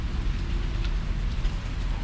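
Heavy rain storm pouring down in a steady, loud, hissing wash with a low rumbling undertone, constant and close for the whole short span, with no voices.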